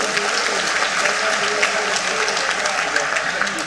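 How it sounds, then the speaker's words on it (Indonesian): Steady, loud applause from a large audience at a university graduation ceremony, continuous dense clapping filling the hall with no pauses. "Jadi boleh tepuk tangan buat dekan yang ibu dulu."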